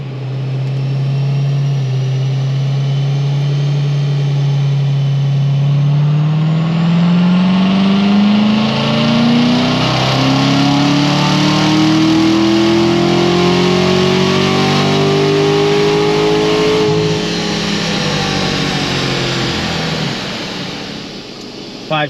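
Corvette C7 Z06 road race car with a track setup and steel rotors, its engine revving steadily upward in one long loud pull, pitch rising and holding before easing off, with no talk.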